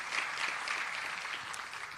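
Audience applause for guests from radio stations at a studio unveiling event in Pretoria, a steady wash of many hands clapping throughout, moderately loud and continuous with no talk over it.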